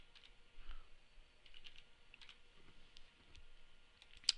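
A computer keyboard is tapped lightly as a zip code is typed in, giving soft, scattered clicks at an uneven pace in a quiet room, with one sharper click at the end.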